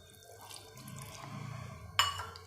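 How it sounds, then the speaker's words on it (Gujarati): Lemon juice, from five lemons, poured over chillies, a quiet liquid trickle and drip building gently before a brief brighter splash near the end. "અને એની તીખાશ દૂર કરવા માટે આપણે એમાં 5 લીંબુનો રસ છે એ નાખીશું"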